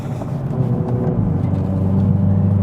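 A Hyundai i30N hot hatchback driving through corners on a bumpy road makes a loud, steady engine drone close by, with no voices.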